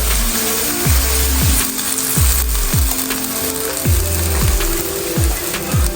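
Coconut milk rundown with curry saltfish and tinned mackerel frying in a pan, a steady close sizzle broken by repeated rhythmic scraping strokes of a spoon stirring, roughly every half second.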